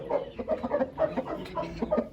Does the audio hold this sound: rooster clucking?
yes